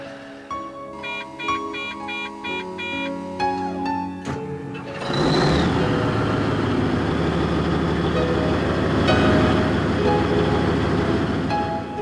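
A dumper truck engine starts after a few seconds of tonal beeping and clicks, then settles into a loud, steady diesel rumble that runs to the end.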